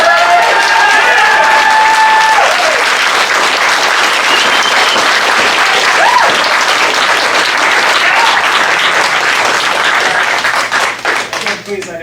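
Audience at a public meeting bursting into loud sustained applause and clapping, a dense close crowd of hands that fades near the end.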